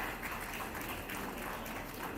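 Steady, dense applause from an audience in a hall at a moot court competition prize ceremony, a continuous wash of many hands clapping at even loudness throughout, somewhat distant, without clear speech.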